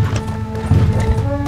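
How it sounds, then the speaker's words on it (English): Hoofbeats of a horse in Red Dead Redemption 2 as it trots away, a steady clip-clop over a low game soundscape with a possible faint whinny, fairly close and continuous. "I'm sending my horse back to camp"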